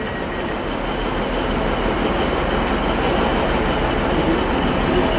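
Class 195 diesel multiple unit on platform 5 at Manchester Oxford Road station, a steady loud rumble of the train throughout with faint wheel squeal, no talking.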